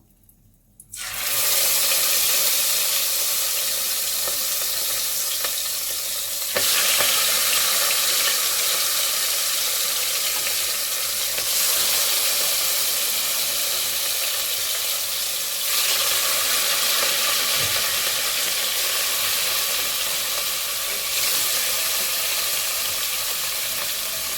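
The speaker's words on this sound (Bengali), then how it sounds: "আমি মিডিয়াম আঁচ রেখে মাছটা ভালো করে ভেজে নিচ্ছি" Pieces of katla fish fry in oil in a wok over medium heat, giving a steady, even sizzle that starts after a brief quiet moment and continues without a break.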